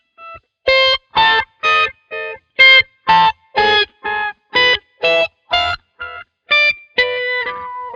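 Electric guitar runs through a whammy pedal set to octave harmony up, then a Phase 90 and a long delay. It plays a loud, evenly spaced sequence of about fourteen short, distorted, shimmering notes, and the last one trails off into echo.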